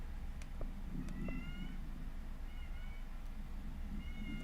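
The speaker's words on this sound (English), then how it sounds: "Cat just started howling." Cat howling indoors, faint drawn-out yowls repeated a few times over a steady background hum.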